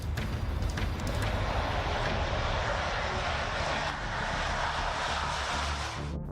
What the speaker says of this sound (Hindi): ताइवान चीन तनाव के बीच 6 ब्लैक ईगल विमान ताइवान के एयरपोर्ट पर उतरे।